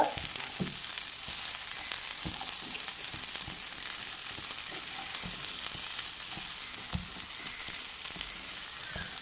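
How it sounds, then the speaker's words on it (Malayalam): Thoran ingredients being stirred and mixed in a hot pan, a soft continuous sizzle with irregular light spoon scrapes and taps, close but quiet with no talk. "ഇതെല്ലാം കൂടെ ഒന്ന് നന്നായിട്ട് മിക്സ് ചെയ്ത് നമുക്ക്"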